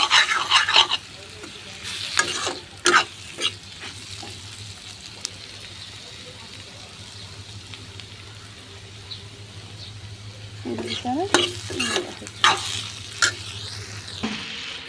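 Pointed gourd and potatoes are frying in a pan, with bursts of stirring scrapes and sizzle at the start and again near the end. A low steady hum runs underneath, and a quieter stretch sits in the middle.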